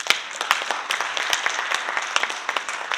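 Crowd applause at a business presentation in Delhi, with scattered individual claps, steady and fairly dense throughout, no voices on top.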